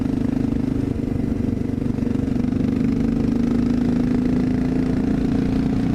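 Close and loud, a Honda XR650L dirt bike engine drones steadily while riding up a curvy mountain road, with a rough, throbbing single-cylinder rumble and constant wind noise.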